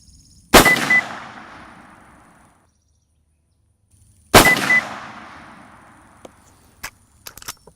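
Two sharp, loud rifle shots about four seconds apart, each with a long ringing decay, fired while zeroing a Zeiss Conquest V4 scope outdoors, followed by faint clicks and small knocks.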